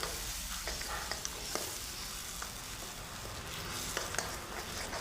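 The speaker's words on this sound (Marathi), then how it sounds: "परत एकदा सगळं मिक्स करून घेतो" Paneer lababdar gravy stirred in a pan, a soft steady sizzle under light scraping and occasional small clicks of the spoon against the metal, fairly quiet with no talk.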